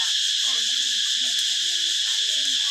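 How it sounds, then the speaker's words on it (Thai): Cicadas drone in a loud, continuous high-pitched buzz in a rural Thai village, filling the whole clip, with faint low chatter beneath. "ได้บรรยากาศบ้านนาขนาดเสียงจักจั่น"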